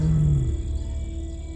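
A tiger in the Indian jungle gives a deep, loud roar that starts strong and fades into a low, rumbling tail, heard close and alone with no voices.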